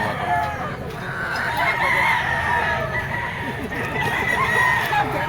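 Chickens and roosters at a busy Lipa poultry market, with continuous clucking and crowing from many birds close by, a dense overlapping flock chorus and faint voices in the background.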